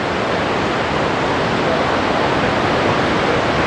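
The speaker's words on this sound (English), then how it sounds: "Behind you, see the waterfall after" Kaieteur Falls in Guyana roars as a loud, steady wash of falling water, a dense unbroken rush close at hand with no pauses.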